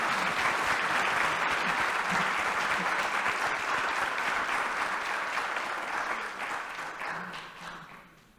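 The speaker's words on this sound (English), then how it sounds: "Let's give her a round of applause" Sustained audience applause welcoming a featured speaker at a panel event, a dense steady wash of many hands clapping that stays loud, then thins and fades over the last two seconds.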